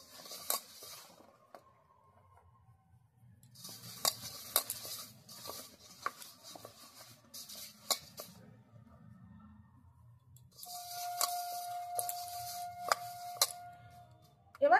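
Flour dough for fuchka, with a little extra flour added, kneaded by hand in a home kitchen: soft squishing and pressing in bursts with scattered clicks and taps against the bowl, no talking.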